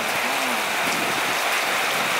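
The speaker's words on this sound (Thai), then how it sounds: "ฝนเทลงมาแล้วครับ" Heavy rain pours down steadily in a broad, dense hiss that fills the air, loud and continuous with no voices.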